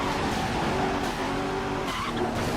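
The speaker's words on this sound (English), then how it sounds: "And my car gets spun around," Car tires skid and squeal as a car spins out in the street racing video game Midnight Club 3: DUB Edition Remix, with a steady engine roar throughout, loud and close, and no talking.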